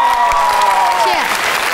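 A studio audience applauds a singer at a music video showcase, a short burst of clapping and some crowd noise with a held musical tone fading beneath it.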